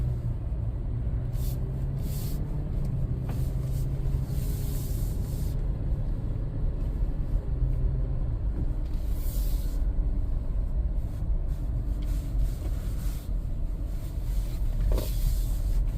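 Toyota 4Runner Trail Edition cruising on a road, a steady low rumble of drivetrain and tire roar with faint wind hiss from inside the cabin, continuous and unvaried, with no talking.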